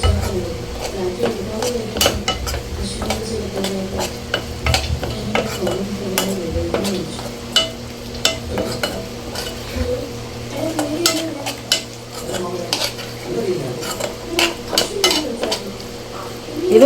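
Onions are sautéed with fried tomatoes for a crab curry, a spatula scraping and clattering against the pan in irregular strokes over a soft sizzle, with someone talking over the cooking.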